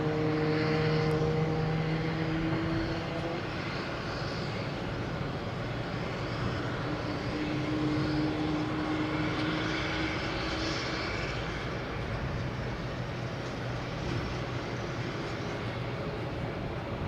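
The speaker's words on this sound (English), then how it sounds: "next taking off should be United Airlines, 737-800, heading to Houston" A United Airlines Boeing 737-800 takes off at Boston Logan Airport, a loud, steady jet engine roar that holds broad and sustained for the whole stretch, heard from a spotting position without talk.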